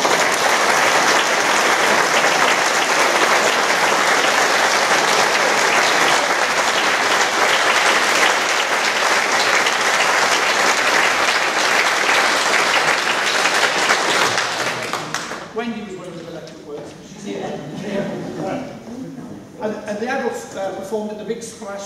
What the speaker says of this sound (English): could you please give a round of applause to our adults?